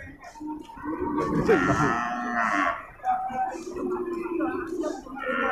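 Several deep, drawn-out moos from jumbo cattle of nearly one ton being unloaded sound close by at a cattle show, overlapping with people talking nearby.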